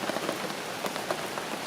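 Heavy rain falls during Hurricane Ian in Florida as a dense, steady hiss of drops striking surfaces, loud and continuous, with no voices over it.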